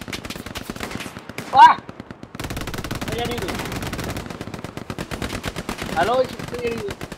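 Rapid automatic gunfire from a World War II style shooter video game, with Germans and Americans fighting in snow, rattles in sustained loud bursts with a few sharper single shots, while someone talks over it.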